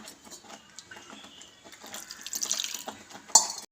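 Water is trickled into sorghum flour dough for jolada rotti in a kitchen, making a soft, close splashing and dribbling with a few light clinks of utensils and a brief sharp knock near the end.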